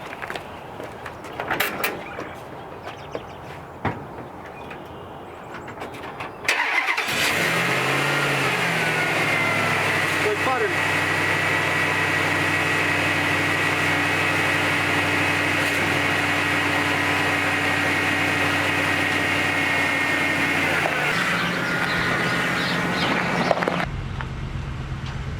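Engine of a 1954 International pickup truck, abandoned forty years, cranks over with a few clicks, catches after about six seconds, then runs at a steady loud idle close by until it shuts off near the end.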